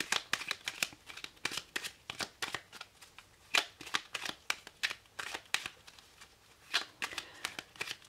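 Tarot cards being shuffled for a reading, close crisp riffling bursts repeating in a quick irregular rhythm, quiet and alone without talk.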